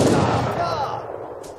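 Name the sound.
cannons firing in the video game Age of Empires III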